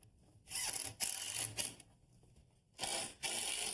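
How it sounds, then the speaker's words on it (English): A power drill drives pocket screws into wooden shelf parts, heard as three loud whirring bursts separated by short pauses, close up with no talking. "Okay, now I'll put a couple screws in here."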